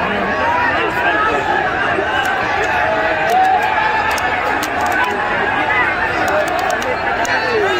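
A large, agitated crowd at a Maharashtra Kesari wrestling match fills the air with continuous overlapping chatter and shouting, a close, loud babble of many voices with no single one standing out.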